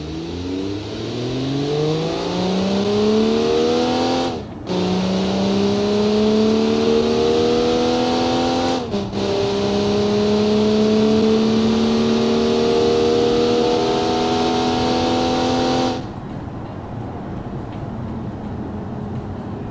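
Comac XTR in Automation on a quarter-mile run, its engine revving hard and climbing in pitch through two gear changes, a loud sustained whine that cuts off abruptly near the end.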